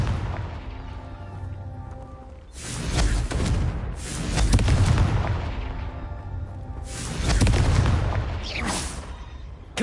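Confringo blasting-spell explosions in a Harry Potter video game: two heavy booming blasts with whooshing, crackling bursts that swell and fade, a loud rumbling barrage with no speech over it.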